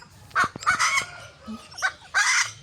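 A frizzle-type Chabo bantam chicken gives several short, hoarse calls in uneven bursts, fairly close, with quiet background between them.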